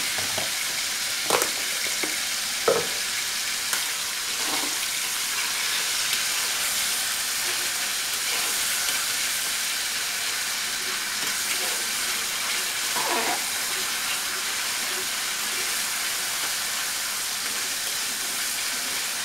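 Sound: onion paste frying in oil

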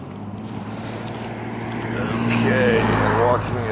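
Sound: oncoming road traffic passing on a blind curve

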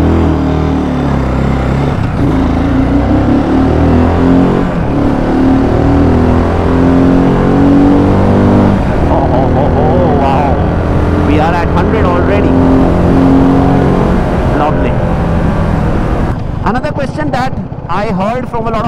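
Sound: BSA Gold Star 650 motorcycle accelerating on open road

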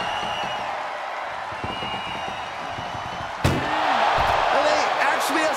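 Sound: ambulance door slamming during wrestling match

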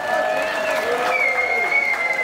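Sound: audience applause for a goulash cooking team

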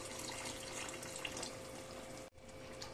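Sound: pouring a little water into the chicken pot

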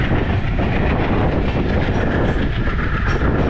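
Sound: train

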